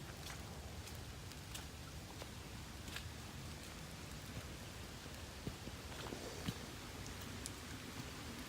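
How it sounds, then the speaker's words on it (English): Light rain outdoors on a cold day, a steady soft hiss of small raindrops with occasional faint ticks, quiet and even. "Little raindrops"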